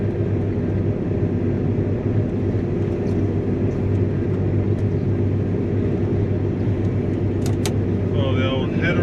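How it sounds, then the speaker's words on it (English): Steady, loud low engine rumble and drone from a Claas Lexion 670 Terra Trac combine harvester being driven, continuous throughout with faint clicks and a brief squeal near the end; someone talks over it. "It is cool driving one of these."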